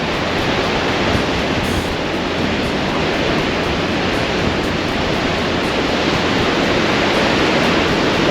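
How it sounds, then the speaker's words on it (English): Rough lake waves on Lake Michigan at the St. Joseph pier and jetty, a constant loud broadband wash of surf and splashing water with no pauses, heard close with no voices. "I see the water splashing over the pier, so it's coming down pretty good."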